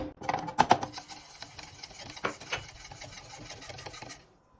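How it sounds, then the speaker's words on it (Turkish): A milk and wheat starch mixture is whisked in a pot, giving quick, close scraping and rasping strokes in an uneven rhythm that stop abruptly near the end. "topaklanmaması için güzelce karıştırıyorum"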